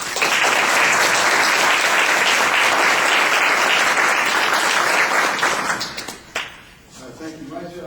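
An audience at a health care reform panel claps to welcome the moderator, a loud, dense applause sustained for several seconds before thinning out and fading.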